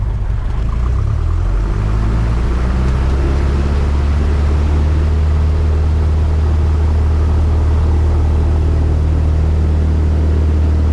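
Cessna 172 piston engine at full takeoff power, a loud steady propeller drone that swells in the first second and then holds strong and even throughout.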